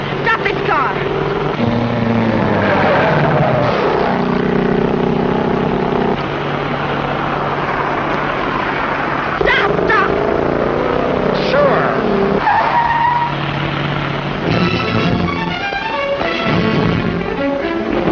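A speeding car in a chase skids with loud squealing tires over a droning engine, the screeches rising and falling repeatedly, with shouting voices and other sounds mixed in.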